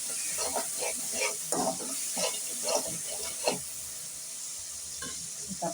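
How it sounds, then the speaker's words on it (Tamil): Tomatoes sautéing in a pan for chicken gravy, with soft sizzling and intermittent stirring scrapes in a steady rhythm, close and moderately quiet. "நல்லா தக்காளி வதங்கட்டும்"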